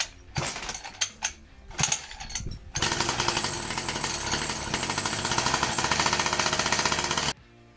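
A mini cross motorcycle's small engine after a carburetor replacement, first sputtering in a few uneven bursts, then catching and running loud and steady at a fast buzzing idle before cutting off abruptly.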